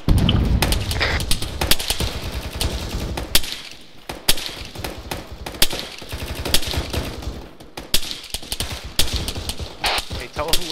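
Rapid gunfire rattles through an ARMA 3 firefight: dense bursts of automatic shots and scattered single cracks, loud and close with some distant reports, briefly easing before resuming.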